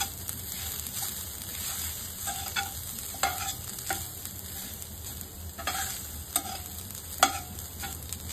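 Grated coconut roasts in ghee in a pan, crackling gently and steadily while a spoon scrapes and stirs it at an uneven pace, close by and without voices.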